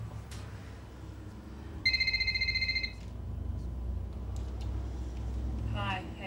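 A telephone rings with a single electronic trilling burst of about a second, clear above a low room rumble, followed by faint background sounds.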